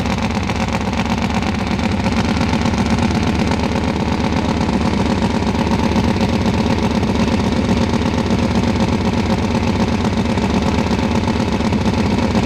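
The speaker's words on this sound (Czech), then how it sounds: "přepnul na nitrometán." Running on nitromethane at a racing event, a motorcycle engine holds a loud, continuous, throbbing rumble close by, with no pauses for over twelve seconds.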